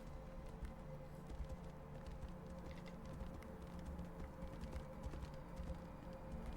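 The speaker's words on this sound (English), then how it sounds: "Not really good at driving the horse." Horse hooves clip-clop at a steady trotting rhythm in the fantasy video game Tainted Grail: The Fall of Avalon, quiet and even, with faint ambient game sounds beneath.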